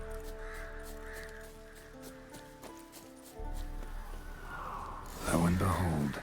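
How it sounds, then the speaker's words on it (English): Ravens caw in the video game The Witcher 3: Wild Hunt, a few harsh calls over a droning ambient score, followed by footsteps or hoof clops, with a voice speaking over it. "Ordinary ravens, looks like."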